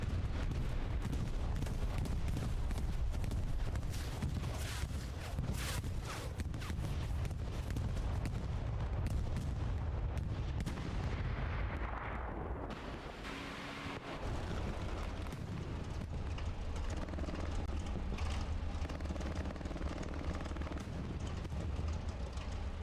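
Continuous loud battlefield din from tank combat in the WWII shooter Hell Let Loose on console, with rumbling explosions, cannon booms and gunfire layered densely, briefly thinning before resuming heavy and low.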